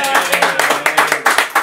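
Brief clapping for a guest named Mateo on a podcast or talk show, a handful of sharp hand claps in quick rhythm, close and fairly loud.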